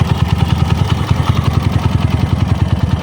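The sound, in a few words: Kawasaki KLX 150 motorcycle engine running after crankshaft overhaul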